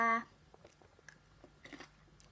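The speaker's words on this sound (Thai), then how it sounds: "กินยำหน่อยก่อนนอนนะจ๊ะ" Someone eating Thai fermented pork salad (yam naem) with cabbage, radish, shallots and lettuce; a loud bite opens, then a few soft, close crunchy chews and mouth sounds follow at an uneven pace.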